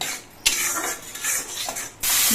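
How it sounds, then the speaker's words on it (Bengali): Spice paste with tomatoes and salt being stirred and fried in a pan, with scraping, rasping strokes and a steady sizzle that swells and dips, close and fairly loud with no talk. "মশলাটা বেশ কিছুক্ষণ কষিয়ে নিতে হবে।"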